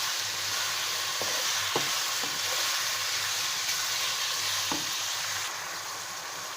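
Steady, hissing sizzle of garlic and chicken frying in a pan, with a few clicks of a utensil stirring; continuous and fairly close, no voices.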